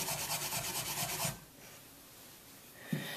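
A coarse brush scrubs soft material off driftwood in a fast rhythmic rasping for over a second, then stops, leaving quiet with a small knock near the end.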